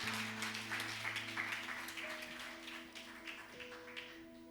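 Audience clapping at a Hindi-language church service, a loose patter of claps spread through the room over a soft sustained keyboard or organ tone, steady at first and thinning slightly toward the end.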